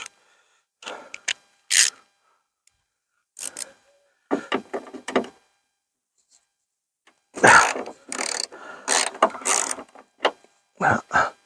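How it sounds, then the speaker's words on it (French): A 13 mm wrench loosens a car hood support bracket, giving several short bursts of metallic ratcheting and rubbing separated by pauses, close and fairly clear with no talk. "je vais juste desserrer un petit peu le support de capot"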